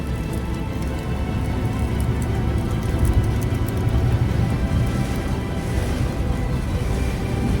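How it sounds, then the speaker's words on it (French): Heavy rain roars steadily and loudly, a dense wash of noise with low rumbling underneath, like a downpour in a severe storm, rain mixed with dust, between Seurre and Dole, France. "Ah bah là c'est pluie mélangée à la poussière"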